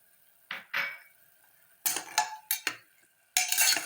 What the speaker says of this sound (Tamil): இப்போது தக்காளி சேர்த்துருக்கோம்